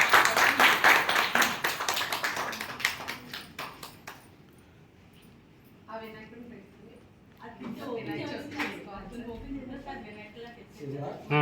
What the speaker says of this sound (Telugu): Claps claps claps.